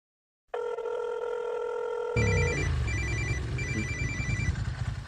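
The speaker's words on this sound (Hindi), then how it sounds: "रवि के फोन।" A telephone rings loudly with a steady electronic tone, then a harsher trilling ring pattern takes over, repeating in short bursts.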